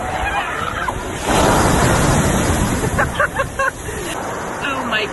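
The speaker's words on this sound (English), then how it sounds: "This poor guy had a difficult time escaping from these rough waves." Rough ocean surf crashes loudly and continuously, with a surging swell in the middle, while goose-like honks and squawks and a babble of distant voices sit under the roar.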